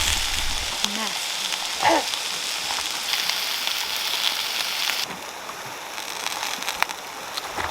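Vegetables and sausage stir fry sizzling in a pan on an overnight back-country canoe trip by the Little White River, a steady close crackle with occasional stirring clinks and a brief voice.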